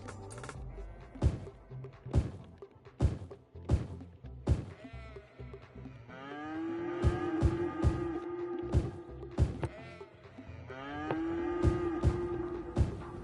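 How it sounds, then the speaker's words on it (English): Cattle moo repeatedly in Cities: Skylines, several long drawn-out lowing calls overlapping with sharp bleat-like livestock cries and rhythmic clicks, moderately close and steady throughout. "We're hearing cattle already."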